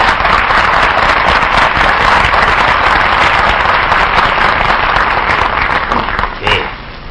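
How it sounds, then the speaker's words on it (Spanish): A television studio audience breaks into loud, sustained applause, a dense continuous roar of clapping that stays strong for several seconds before easing slightly near the end. "¡Aplausos, por favor!"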